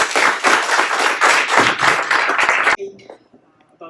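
Applause from an audience at a 2021 fundraiser for mental health and addictions: dense, steady clapping for almost three seconds that stops abruptly, leaving a quiet room with faint scattered noises.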